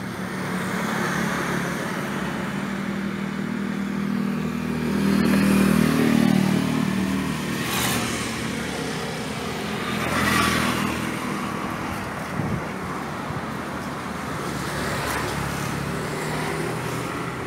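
A 2014 Mazda CX-9 with a 3.7-litre V6 engine fitted with an HHO generator runs steadily, a loud, close, continuous engine hum with a brief swell and a few faint clatters, no talking.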